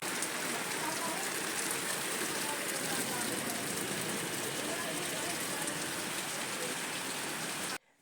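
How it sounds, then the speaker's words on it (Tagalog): Heavy rain pours steadily, a dense, loud hiss of drops hitting surfaces that continues unbroken before cutting off abruptly at the end. "Dire-diretso pa nga rin ang buhos ng ulan"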